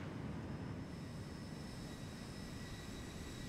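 Boeing 737 airliner engine in the Zibo flight simulator game, a steady broadband jet roar holding at a loud, even level throughout with no talking.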